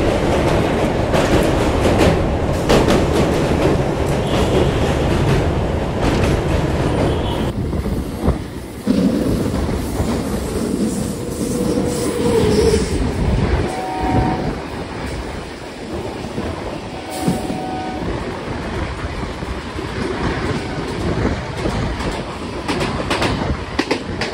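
A passenger train on the Kolkata to Agartala route crosses the Vivekananda Setu bridge, its loud continuous rumble and wheel clatter filling the whole stretch from nearby without letup.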